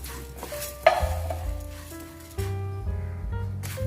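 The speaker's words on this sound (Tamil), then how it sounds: "இதே இதிலே நான் இப்போ பச்சை பயிரையும் நல்லா வறுத்து எடுத்துக்கிறேன்" Whole green gram dry-roasting in a pan, with a scraping stir early on, a sharp clink near one second, then steady low crackling and shuffling of the dry lentils throughout.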